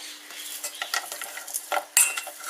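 A spoon stirs melting chocolate in a saucepan, making a run of light metallic scrapes and clinks against the pan that come close and clear, with a sharper knock near the end and no talk.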